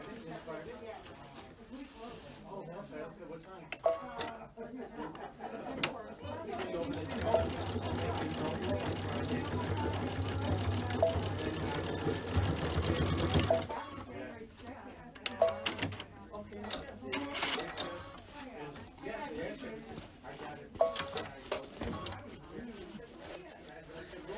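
A home sewing machine stitches a Kimberbell paisley belt bag in one continuous run of about seven seconds, steady and fairly close, with someone talking before and after and fabric handling around it.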